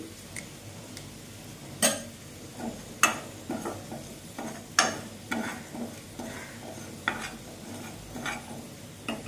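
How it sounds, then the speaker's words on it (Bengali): Panch phoron spices and asafoetida hitting hot oil in a home kitchen, giving faint crackles and scattered sharp pops with a soft sizzle beneath, with occasional light clinks of a utensil against the pan. "তেলে আমি দিয়ে দিচ্ছি 5 ফোড়ন আর হিং।"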